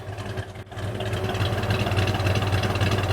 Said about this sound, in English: It's sitting there idling smooth.